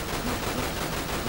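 Rapid gunfire from a gun in the video game Dirge of Cerberus, a steady dense rattle of shots lasting throughout, loud and unbroken with no voice over it.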